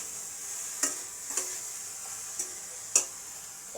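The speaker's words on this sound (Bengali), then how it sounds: "বিনস, গাজর সব আমি ঢেলে দিচ্ছি।" Beans and carrots are sautéed in a pan under a soft background hiss, with four sharp clacks of a utensil against the pan spaced irregularly across a few seconds.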